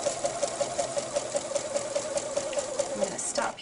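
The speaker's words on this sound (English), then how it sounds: "I'm just stitching, I'm watching the lace edge, and I'm stitching all around that." A sewing machine stitches steadily around a lace edge, its needle hammering in a fast, even rhythm close up, running continuously before slowing near the end.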